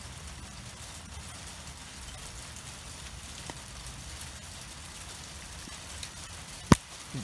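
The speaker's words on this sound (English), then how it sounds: "We're still getting the hail." Hail falls in Lake Elsinore, a fairly faint, even pattering of small pellets hitting surfaces, with one sharp louder strike near the end.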